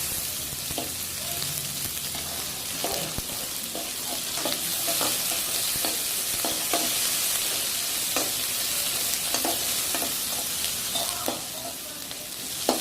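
Onions sauté in hot oil with a steady, even sizzle throughout, broken by frequent short scraping clicks of a spatula stirring the pan, for masala idli; no talking.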